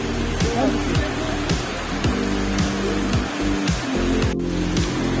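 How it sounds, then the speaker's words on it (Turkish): Waterfall water at Yakapark, a park with many separate cascades, rushes steadily in a constant broad hiss while a rhythmic rumble pulses beneath and a voice speaks nearby. "Böyle ayrı ayrı bir sürü şelalesi var."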